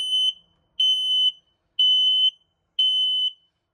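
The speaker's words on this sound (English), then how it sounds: "We do have an LP gas and carbon monoxide detector to the right hand side. It's going to make that annoying little sound." An LP gas and carbon monoxide detector alarm in a 2025 Forest River Palomino SolAire travel trailer gives four loud, shrill, even electronic beeps, each about half a second long, spaced roughly a second apart, with no talking.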